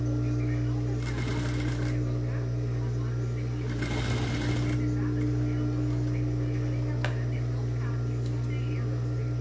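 A sewing machine stitches a seam on a V-neck blouse with sleeves near the underarm finish, giving two short, fast bursts of rapid mechanical clatter over a steady motor hum, close by.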